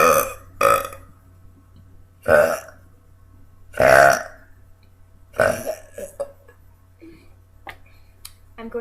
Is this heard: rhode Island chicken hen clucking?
no